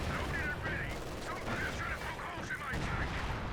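Machine gun fire in Company of Heroes 2, a dense continuous rattle of battle noise sustained throughout at moderate loudness, with faint voices mixed underneath.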